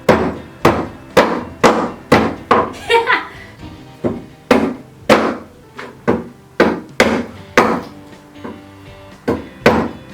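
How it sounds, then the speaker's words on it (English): A Silky axe chopping a dry piece of wood, with a steady run of about twenty loud, sharp, close blows at a fairly even rhythm, a brief pause partway through, and a voice speaking at times. "it was actually easier to cut the old dry bit of wood"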